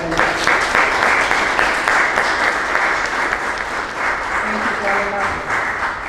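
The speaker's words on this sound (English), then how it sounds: "So a big round of applause." Audience applause at a grant celebration event, loud dense clapping that holds steady for several seconds with no voice over it.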